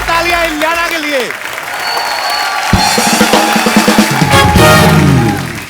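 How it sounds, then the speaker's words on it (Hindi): Studio audience on The Kapil Sharma Show claps and cheers as a guest is welcomed, the applause building under a host's voice and swelling louder toward the end. "जोरदार तालियां इलियाना के लिए"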